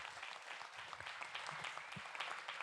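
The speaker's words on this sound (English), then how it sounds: "Can we give these gentlemen a round of applause?" Faint, distant applause from a city council meeting crowd, a steady patter of clapping throughout the short stretch.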